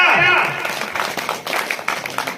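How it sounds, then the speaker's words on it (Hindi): Applause and clapping from an audience at a Hindi comic poetry gathering in Lakhimpur Kheri, a dense patter of hands running steadily throughout, fairly loud and close. "वाह वाह तालियां"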